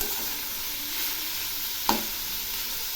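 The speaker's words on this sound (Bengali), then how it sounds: "এখন আমি এর মধ্যে দিচ্ছি এঁচড়গুলো। এগুলো এর সঙ্গে একটু ভেজে নেব" Raw jackfruit pieces sizzle steadily as they fry in a pan, with a soft scrape of stirring and one sharp clink near the end, close and moderately loud.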